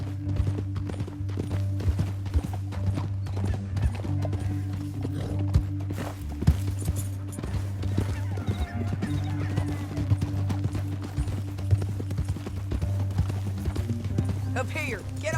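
Steady clip-clop of horse hooves at a trotting pace in the video game Red Dead Redemption 2, continuing throughout with background sounds and occasional voices mixed in.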